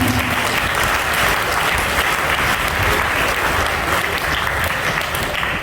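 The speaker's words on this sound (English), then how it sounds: "Please give a big round of applause for them." A large audience at a Teachers' Day celebration applauds loudly and continuously. The crowd's dense, even clapping fills the whole stretch without a break.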